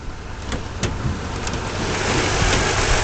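A Toyota Tundra CrewMax pickup truck engine idles with a steady low rumble that grows slightly louder, heard up close with a few faint clicks.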